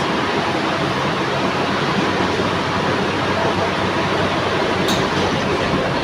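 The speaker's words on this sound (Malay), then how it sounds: "Nah, ini dalam monorel guys." Inside a moving Kuala Lumpur monorail car, a loud constant rumble and rushing roar fill the space, steady throughout with one brief high squeal near the end and no voices.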